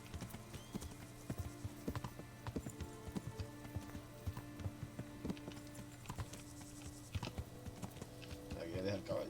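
A horse in Kingdom Come: Deliverance clip-clops along near a camp, its hooves striking in a steady quick rhythm at close range, with a brief louder rustle near the end.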